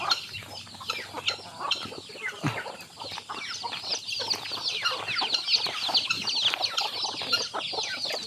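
Native backyard chickens clucking steadily at close range, with overlapping calls and scattered sharp squawks filling the yard, no talking.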